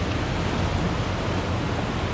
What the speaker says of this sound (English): These little tiny waves just lapping at the beach here are pretty